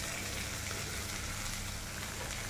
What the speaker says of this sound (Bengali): তারপরে এখন ভালো করে নাড়াচাড়া করে নেব